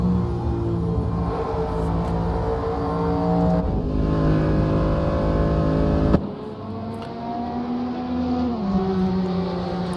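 A Porsche GT race car engine pushed hard at a British Grand Prix round of a GT World Challenge, loud sustained roar with shifting pitch as gears change, cutting to a slightly quieter on-board drone partway through.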